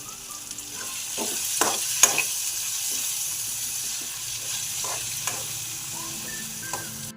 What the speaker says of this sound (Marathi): आता आपण याच्यामध्ये मिरची आणि कढीपत्ता टाकू।